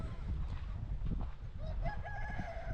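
Chickens on a native chicken farm cluck and call over a steady low farmyard rumble, and a rooster crows near the end with a rising drawn-out call.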